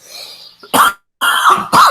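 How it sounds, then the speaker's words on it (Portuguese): Close, loud coughing and throat clearing during a spoken lesson, with three harsh bursts separated by short silences. "agora tá dando uma tosse"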